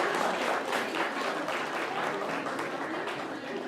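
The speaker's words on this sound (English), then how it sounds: "So a big round of applause" A crowd at a Hindu New Year community celebration applauds the volunteer team, a full, even roar of clapping throughout, with faint voices underneath.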